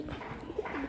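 Pigeon cooing indoors in a home loft, a low throaty coo rising midway and another near the end over a steady background hum, close and moderately loud.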